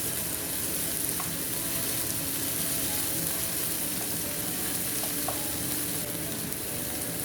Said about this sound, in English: So now we're going to be adding our onion. We're just going to get those sauteed in.